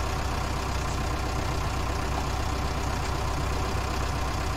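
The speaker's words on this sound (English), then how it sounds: "you can see the tractor from the outside working away" A farm tractor engine runs with a steady, even low rumble, close and constant with no voices over it.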